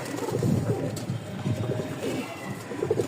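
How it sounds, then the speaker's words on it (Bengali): Gorra pigeons, a pair of black birds with pale eyes, cooing in low repeated murmurs close by, with steady soft calls throughout. "একদম কালো কুচকুচা পাথর চোখের একজোড়া কবুতর"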